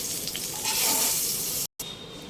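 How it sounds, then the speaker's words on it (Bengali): Eggplant pieces fry in hot oil until browned, giving a steady bright sizzle with a faint stir partway through and a brief cut to silence near the end. "বেগুনটাকে এবার লাল করে ভেজে তুলে নেওয়া হবে"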